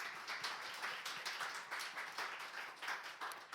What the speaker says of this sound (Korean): 우리 하나님께 우리 큰 박수로 영광 돌리겠습니다.